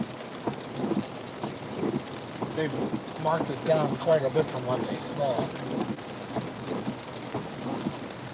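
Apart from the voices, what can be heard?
thunderstorm with rain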